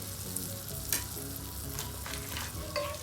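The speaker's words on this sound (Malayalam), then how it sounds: "2 ടേബിൾ സ്പൂൺ ബട്ടർ ചേർത്ത് കൊടുക്കാം. മെൽറ്റ് വരട്ടെ." Butter melts in a hot pan with a soft, steady sizzle and crackle, a few sharper pops and light stirring scrapes, close and fairly quiet with no talking.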